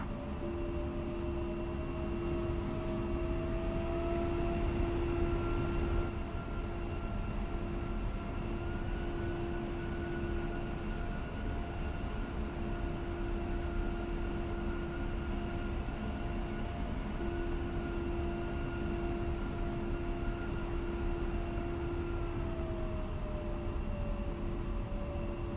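Twin jet engines of an A-10 taxiing in the DCS World flight simulator: a steady, loud turbine whine and roar with a tonal hum that shifts slightly in pitch, continuous and close, with no voices.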